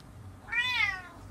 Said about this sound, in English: It's the family cat.